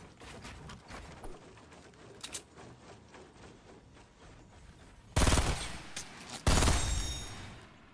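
Rapid bursts of gunfire from a Fortnite match, including two loud, close blasts near the end, over a steady game background with no speech.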